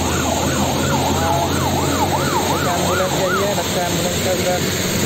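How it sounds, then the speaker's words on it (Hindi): An ambulance siren wails in repeated rising-falling cycles as it passes along a rainy Mumbra road over steady traffic noise, then fades away, with faint voices nearby. "एम्बुलेंस गई है"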